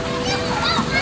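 Children bathe in a rain-filled pool of water outdoors, with close splashing and sloshing under lively kids' voices, over about a second.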